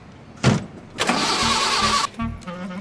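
A municipal mayor's car that will not run: the starter cranks in a short burst, then in longer grinding attempts with brief pauses, loud and close, with no engine catching.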